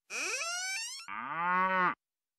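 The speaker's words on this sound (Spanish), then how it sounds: "La vaca se asoma. Moo." Two long cow moos in succession, close and clear, the first rising higher, the second lower and fuller, in an otherwise quiet setting.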